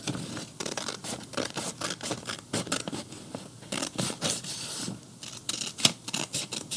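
Scissors snip through a row of paper cards in a quick, irregular series of crisp cuts and rustles, close and fairly quiet, with short pauses between strokes.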